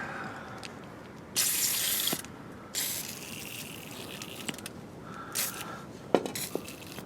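Liquid Wrench penetrating oil is sprayed on the emergency brake cable spring of a 2003 Dodge 1500 in several short hissing bursts: two longer sprays, then briefer spurts. A light metallic click comes near the end.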